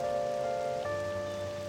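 Steady rain falling in the video game Persona 5 Royal, a continuous soft wash of drops on a surface running under a sustained musical tone throughout.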